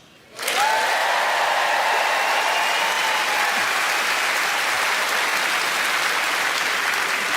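Scottish audience members at a stand-up comedy show break into loud, sustained applause that starts suddenly and holds steady, a dense crowd of clapping hands with no talk over it.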